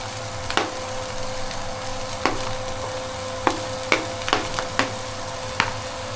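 Broccoli and mushrooms sizzle in a pan for soup, a continuous frying hiss punctuated by several quick clacks and scrapes of a spoon stirring them.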